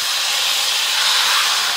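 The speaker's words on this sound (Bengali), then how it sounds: "তো কড়াইতে খুব সামান্য একটু তেল দিয়ে আমি এবার পাবদা মাছটা দিয়ে দিচ্ছি।" Loud, steady hiss of pabda fish hitting a little hot oil in a wok, a continuous sizzle close up with no break and no voices.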